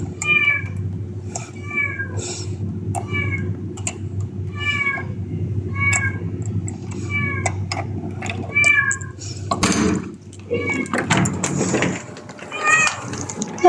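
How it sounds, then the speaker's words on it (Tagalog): Pet cat meowing again and again in a home, clear, close repeated meows at a steady pace, with a person briefly speaking and a door-like rustle near the end. "Tingnan nyo naman yung reaction ng pusa ko guys."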